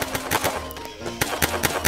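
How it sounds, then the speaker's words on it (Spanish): Rapid bursts of gunfire in the battle royale game Free Fire: sharp, loud shots in quick clusters with brief gaps between volleys, close and alone. "Pero vamos a echar balazos."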